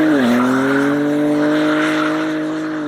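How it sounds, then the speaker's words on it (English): A 2024 BMW M3 Touring doing a burnout, its tyres squealing loudly under a steady high engine drone. The squeal stays sustained and close for about three seconds, with no talk over it. "if you load up the throttle, you can actually get it to do a little burnout as well"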